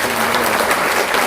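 A large audience at a political book concert gives a big round of applause, a thick, continuous burst of clapping heard up close.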